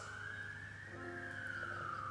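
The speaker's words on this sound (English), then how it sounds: "sorry about the sirens," A faint siren wails in the distance, its tone slowly rising and falling over a low hum of background noise.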